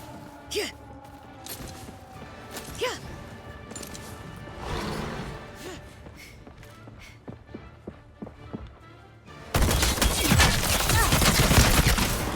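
Gunfire in the shooter game Highguard: scattered sharp shots and footstep-like thuds, then a loud, dense burst of rapid fire near the end.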